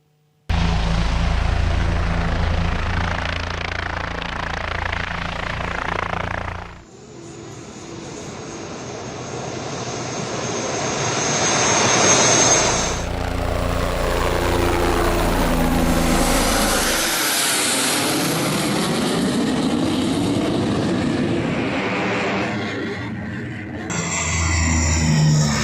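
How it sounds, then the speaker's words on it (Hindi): A C-130 Super Hercules military transport aircraft lands on an emergency landing strip built into a highway near the Pakistan border in Rajasthan, its loud propeller engines roaring continuously, with a surge in power and rushing air as it passes close by. "या मार्गावर C-130 हे लढाऊ विमान लँडिंग फील्डवर उतरलं"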